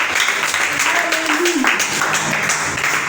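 A church congregation applauds during a worship service, a diffuse clapping that rises under a preacher's ongoing speech and fills the room.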